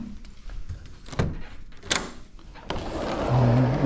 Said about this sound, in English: Let's see if I can open this door.